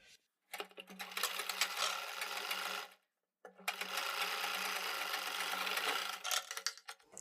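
Sewing machine stitching neck fabric along a buckram strip, two long steady runs of even whirring stitches separated by a short pause, close and fairly quiet.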